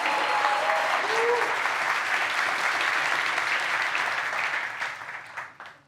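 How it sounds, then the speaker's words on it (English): Audience at a tech conference on AI agents breaks into sustained applause, a dense steady clapping that holds loud for several seconds before thinning and fading out at the end. "So let's give them a big round of applause."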